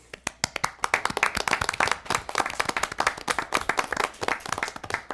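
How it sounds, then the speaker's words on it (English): Applause at a town council meeting, a small group clapping with distinct sharp individual claps, close and fairly loud, ragged and uneven in rhythm for several seconds. "I say we applaud Catherine for the work that she's done."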